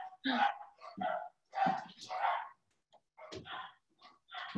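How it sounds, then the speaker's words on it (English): Several dogs barking in a home during an online talk, a string of short, fairly quiet barks in uneven bursts with brief pauses between them. "I love how when I start talking, my dogs decide to bark."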